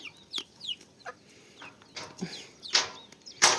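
Backyard chickens and roosters, including a naked-neck bird, give a series of close, sharp clucks and squawks in irregular bursts against a quiet farmyard background.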